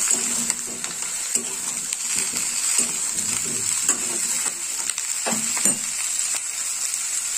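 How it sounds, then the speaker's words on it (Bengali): Cauliflower fries with onions in a pan, giving a continuous soft sizzle punctuated by irregular clinks and scrapes of stirring, close up with no talk. "পেঁয়াজের সঙ্গে কপিগুলো আমি ভেজে নেব।"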